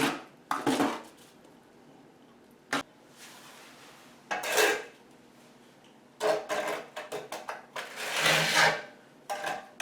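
Runny mortar for shower waterproofing is mixed thoroughly in a bucket, heard as irregular scraping, slopping and clanking bursts of a mixing tool, close by, separated by short quiet gaps.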